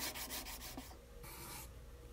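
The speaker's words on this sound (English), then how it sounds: "I sanded the bottom to where it was flat" A plywood hand plane body is rubbed back and forth over sandpaper glued to a flat board to flatten its bottom. The scratchy strokes are close and steady, fast at first and then slower and longer.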